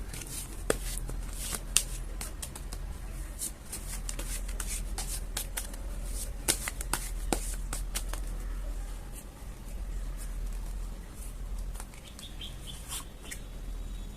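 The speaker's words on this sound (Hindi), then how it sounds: "मैं पहले आज सब कार्ड्स निकालने वाली हूँ" Tarot cards are shuffled repeatedly in soft, riffling bursts at close range, with birds chirping faintly in the background and no talking.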